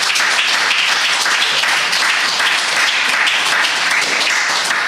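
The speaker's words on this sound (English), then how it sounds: "let's give them one last round of applause." An audience applauds a panel steadily, a dense wash of clapping that holds at full strength throughout.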